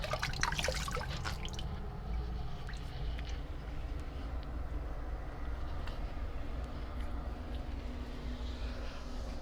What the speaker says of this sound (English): Let's get things rinsed off and see how we did.